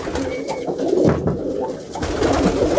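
Pigeons kept for racing coo repeatedly up close in soft, throaty rolling calls over a low background murmur, with no clear talk.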